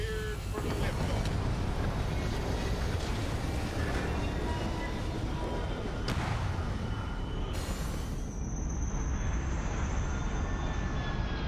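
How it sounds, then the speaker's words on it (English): A spaceship lifts off in the video game Starfield with a continuous, loud, broad engine roar and a rising whine near the end. "Let's go ahead and take off. We're cleared for liftoff."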